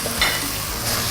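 Rice with tomato is stirred in a pan for a fried rice with chicken feet, a brief close sizzle with a quick scrape, no voices.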